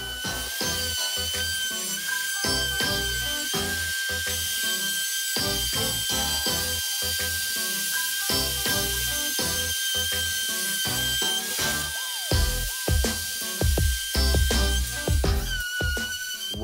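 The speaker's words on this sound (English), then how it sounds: "I used a router with a straight bit and a couple of straight edges to cut the channels for the miter bars." A router fitted with a straight bit cuts channels in MDF, whining loudly with a thin high tone, broken by repeated bursts of rough cutting noise and brief pauses between passes.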